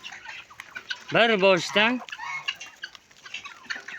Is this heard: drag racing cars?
no